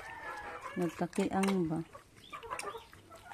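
Chickens cluck and a rooster crows close by near a kitchen, a burst of loud calls in the middle with softer clucking trailing off, while a person speaks briefly over them.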